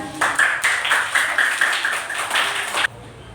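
A classroom group claps in a short, even rhythm of brisk hand claps for a group presentation, close and fairly loud, stopping abruptly into quiet room tone.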